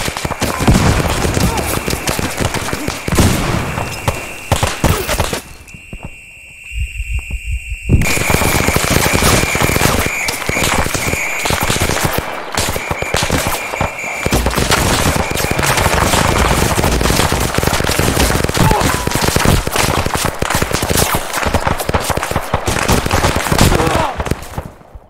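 Sustained automatic gunfire from the Vietnam-era video game Arma 3 SOG Prairie Fire, loud rapid bursts that go on almost without pause, with a short lull partway through and voices now and then.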